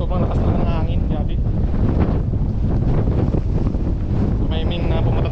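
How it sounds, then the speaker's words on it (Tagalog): Strong gusts batter the microphone in a loud, continuous roar on a white-sand beach on Mararison Island, Culasi, Antique, at night during the amihan monsoon, with talk partly buried beneath the buffeting. "sobrang lakas lang ng hangin"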